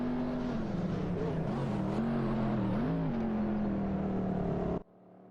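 Race car engines in a racing video game whine at a steady, sustained pitch during an overtaking sequence, with a slight wavering rise and fall, loud and continuous, then stopping suddenly near the end.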